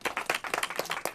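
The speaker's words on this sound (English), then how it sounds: "Applause today from California First Partner Jennifer Siebel Newsom" A brief, close burst of scattered clapping from a small group at a California equal pay pledge announcement, around a dozen distinct claps in just over a second.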